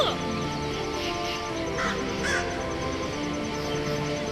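A few harsh raven caws ring out over a steady ambient drone, moderately distant and spaced apart.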